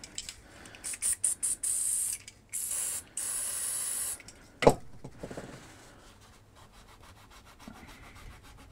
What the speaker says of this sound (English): we'll just use some other cleaning solvent there just to clean off that